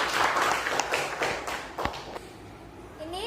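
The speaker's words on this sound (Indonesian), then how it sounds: "Kita beri tepuk tangan dulu." Brief classroom applause for a student heading to the front, a short burst of clapping from children that quickly thins out into a few scattered claps.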